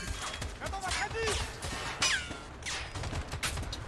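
Bursts of gunfire in the video game Escape from Tarkov run continuously under people talking, with sharp shot transients throughout.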